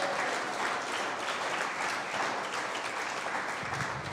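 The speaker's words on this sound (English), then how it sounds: "how about a big round of applause for Superman" Sustained audience applause at a live talk show honoring a Packers defensive lineman, steady and dense throughout with no voices over it.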